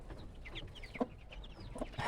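Jersey Giant and Cochin chickens cluck softly and intermittently at a moderate distance, with a few sharper calls standing out.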